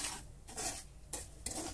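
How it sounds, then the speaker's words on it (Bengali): Semolina roasting in ghee in a pan, stirred with a utensil in four distinct scraping strokes, quiet and close, with soft gaps between each pass. "এখন আমি সুজিটা ভালো করে ভেজে নেব"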